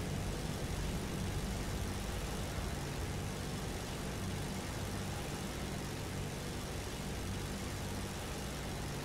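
A Stuka Ju-87G1 dive bomber's engine in War Thunder drones steadily and loudly throughout, a continuous low rumbling hum with no talk over it.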